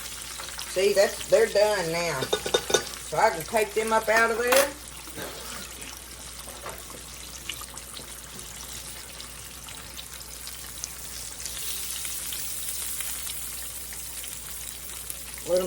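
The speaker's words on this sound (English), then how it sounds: "to keep them frying good where it makes them good and crunchy" Pork tenderloin pieces fry in oil on medium-high heat with a steady sizzle that carries on after someone talks briefly over it at the start.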